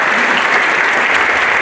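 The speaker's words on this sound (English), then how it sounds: "So a big round of applause for these guys." A Hall of Fame event audience breaks into loud, dense applause, a continuous and close wash of many hands clapping with no pause.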